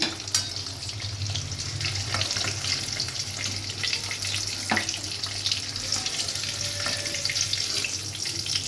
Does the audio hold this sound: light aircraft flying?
no